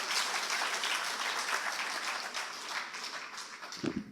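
Conference audience clapping in a hall, a thick, lively burst of applause that stays strong for a few seconds before tapering, with a brief low thump at the very end.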